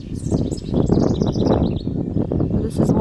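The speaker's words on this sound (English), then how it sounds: "You're listening to a house wren." A house wren's bubbling, rapid song trills in bursts over rustling wind and leaves, fairly close, with a brief flourish near the end.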